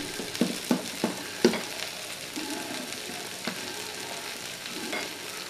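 Dosa batter with salt being stirred makes a few quick clacks and scrapes at the start, then a softer continuous stirring rustle with occasional taps, with no voices.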